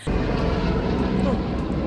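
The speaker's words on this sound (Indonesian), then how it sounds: "Ada helikopter lewat." A helicopter passing overhead outdoors, a steady loud rotor and engine rumble that holds through the whole moment, with a voice talking over it.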